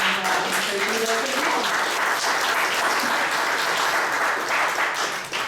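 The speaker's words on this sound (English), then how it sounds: "Keep clapping." Continuous close audience applause fills the room after a talk at a university event, dense and even clapping with a few voices mixed in, tapering slightly at the end.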